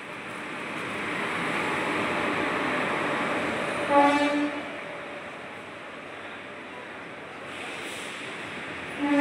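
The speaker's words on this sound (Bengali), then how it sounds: "আমাদের ট্রেন ঢুকছে, ট্রেনটা থামলেই আমরা উঠে পড়বো।" A train pulls into a station, its steady rumbling roll continuous throughout, with a brief louder horn-like tonal blast around the middle and another swell at the end.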